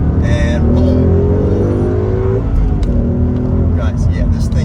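A 2016 Ford Mustang GT Premium with Performance Pack and six-speed manual accelerating hard in second gear, engine pitch climbing steadily and loud, close up from inside the car.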